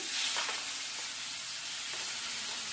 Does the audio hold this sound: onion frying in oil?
yes